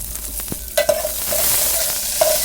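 Mustard seeds, crushed garlic, onion and curry leaves sizzle in hot oil for a tempering, with a steady frying hiss broken by stirring clinks and scrapes close to the pan.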